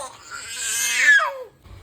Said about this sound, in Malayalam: അയ്യോ നമ്മുടെ പൂച്ചയല്ലേ വരുന്നത്